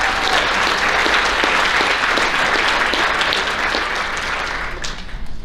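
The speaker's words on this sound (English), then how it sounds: "Give these managers a round of applause." Sustained applause from a crowd at a 2022 high school athletic banquet honoring team managers, steady and full throughout, easing slightly near the end.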